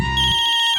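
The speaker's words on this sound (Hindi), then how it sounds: "अब तो ऐसा लग रहा है कि तेरा फोन भी बज रहा है।" A phone ringtone sounds: a short, loud electronic ring with a warbling high tone, heard alone and close.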